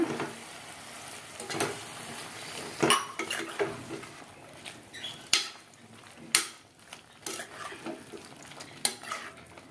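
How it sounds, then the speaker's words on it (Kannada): A spoon stirs radish dal sambar with added water in a metal pot, scraping and clanking against the sides in irregular strokes, close and clear with no talk. "ನೀರನ್ನ ಆ್ಯಡ್ ಮಾಡಿ ಮಿಕ್ಸ್ ಮಾಡ್ಕೊಳ್ಳೋಣ"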